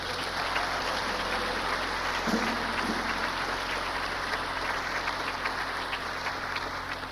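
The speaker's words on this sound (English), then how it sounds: "So give her another hand clap for me, please" An audience at a gospel concert in a church applauds, a dense, continuous clatter of many hands clapping at a steady level with no breaks, heard at moderate distance.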